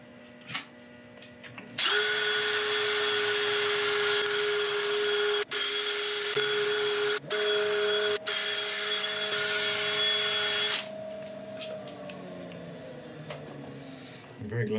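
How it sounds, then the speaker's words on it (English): A power drill fitted with a mop sponge buffs a resin woodturning piece, a loud steady whine that rises in pitch partway through, with brief cut-outs as the trigger is released, before spinning down at the end. "I've got a mop sponge on the end of my drill"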